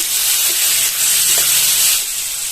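Fried masala being stirred in a pan for Kadapa-style lemon rice, a steady soft sizzle with hiss and light scraping running throughout, close and moderately loud, no talking.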